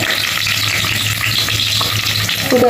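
Green chillies and onions frying in a pan for asparagus rice, a loud, close, continuous sizzle and crackle of hot oil with a faint low hum underneath, no talking.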